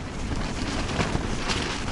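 Strong wind roars against a tent at night, a steady loud rush with gusty swells and rumbling buffeting close to the microphone.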